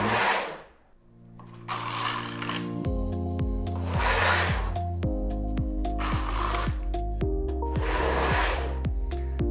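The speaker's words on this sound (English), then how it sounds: "For the neckband, I need to knit 8 rows of ribbon." Knittax knitting machine working ribbing rows for a baby sweater neckband, its carriage swept back and forth in repeated passes, each pass a loud rasping whoosh over a steady mechanical hum and clicking, with no talking.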